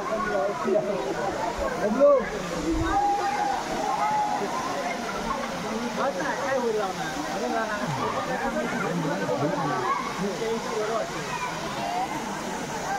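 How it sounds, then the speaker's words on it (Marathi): Steady rushing roar of the Marleshwar waterfall fills the scene during a pilgrimage visit, with a crowd of voices chattering throughout over the constant wash of falling water. "मार्लेश्वर धबधबा"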